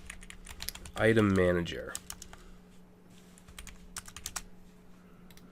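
A computer keyboard being typed on, with scattered quick clicking keystrokes before and after a short burst of someone speaking nearby.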